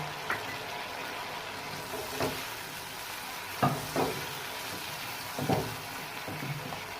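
Chicken white karahi with yogurt stirred and frying over high flame, a steady low sizzle with a few soft scraping stirs at intervals, close and fairly quiet, no talking.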